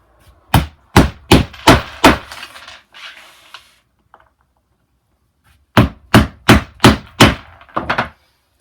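A hammer drives T-nuts into a climbing wall panel in two bursts of about five or six sharp, evenly spaced woody strikes, separated by a quiet pause with faint handling noise. The drilling does not stand out.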